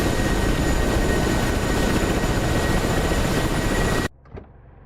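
Spitfire piston engine in a flight simulator game, a loud, steady broadband drone that runs continuously for about four seconds, then cuts off abruptly, leaving near silence with one faint knock.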